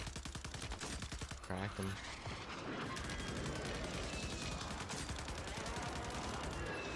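Eradicator gun in the Call of Duty Warzone video game firing on Rebirth Island, with dense rapid bursts that are loud and continuous throughout, a short voice speaking briefly near the start over the gunfire.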